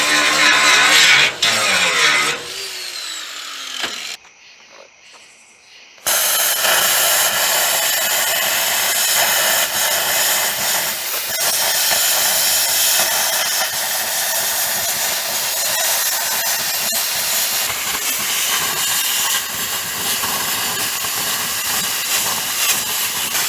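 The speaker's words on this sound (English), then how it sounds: "let me grind a spot" Angle grinder grinding a spot on metal for a homemade trailer build, a loud continuous harsh hiss and whine that dips briefly near the start, then runs steadily for about twenty seconds.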